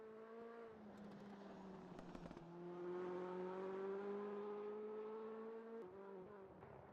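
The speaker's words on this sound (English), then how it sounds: "You can sort of hear the backblast that car produces." A WTCC touring race car engine at the Nürburgring drones and revs loudly at close range, with a few sharp exhaust pops and crackles breaking through early and near the end.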